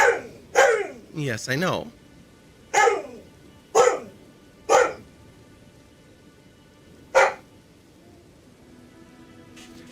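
Nika, a pet dog indoors, barks in a series of sharp, loud barks, several bunched early then spaced out, at another dog outside the living room window; a person speaks briefly over them.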